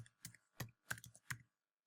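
Fingers tap a computer keyboard in a short burst of about six quiet, distinct clicks, close and isolated with silence between strokes.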